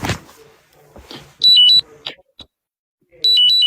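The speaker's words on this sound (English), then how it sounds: "My alarm going off." An electronic alarm goes off in two bursts of rapid, shrill repeating beeps, loud and close, with quiet speech and small handling sounds in the gaps between.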